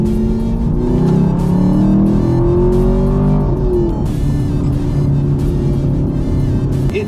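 A Chevrolet Camaro SS 1LE fitted with an aftermarket intake accelerates hard from a rolling start, its V8 engine loud and close, revving up through a rising drone before a brief dip as it shifts and pulls again.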